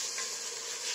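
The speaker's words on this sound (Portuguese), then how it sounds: "agora eu vou deixar refogar esse frango" Chicken breast seasoned with salt and garlic fries in a little oil, giving a close, steady, crackling sizzle that lasts about a second with no voices.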